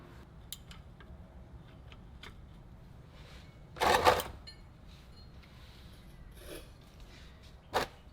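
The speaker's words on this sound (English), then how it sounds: "So get the 17mm socket ready on the breaker bar." A breaker bar on a 17mm socket breaks loose a tight drain bolt on a 2011 Subaru WRX transmission, giving one short, sharp crack midway through, then a small click later in an otherwise quiet garage.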